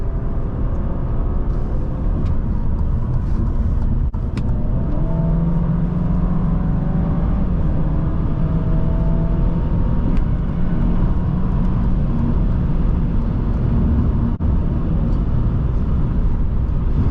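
A 2021 Alfa Romeo Giulia Ti at about 50 mph through a big turn on the road, steady loud cabin drone of engine and road roar with a rising engine tone, no talking.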